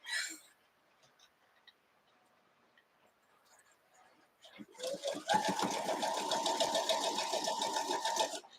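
A sewing machine stitching a quilt block starts up after a quiet stretch with faint handling sounds, then runs in a fast, steady close-up chatter of needle strokes until the end.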